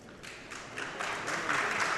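Applause from a crowd at a pétanque boulodrome during the French championship doubles final, a steady wash of clapping that builds gradually and stays sustained, moderately distant, with no voices over it.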